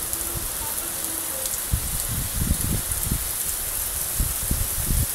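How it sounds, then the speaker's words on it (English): Heavy rain pouring down in Montecito, Southern California, during a storm with flooding and a power outage: a steady, dense hiss of rainfall with heavier splattering drops and irregular thumps throughout, loud and continuous with no talking. "Wow, now it's really coming down. Heavy rain."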